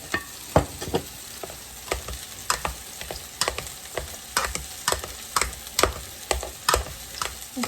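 Butter and food sizzle in a hot pan while a spatula scrapes and stirs in a regular rhythm of sharp knocks over a steady frying hiss, close and fairly loud, with no voice.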